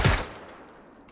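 A single loud pistol shot in the online shooter PUBG fired indoors near a window, a sharp close crack that fades quickly into a brief ringing tail, heard alone.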